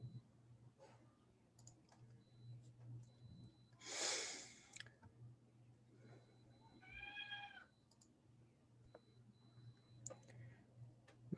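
A mother cat that recently had kittens gives a short, clear meow midway through, set against a steady low hum, scattered clicks and a brief louder rustle.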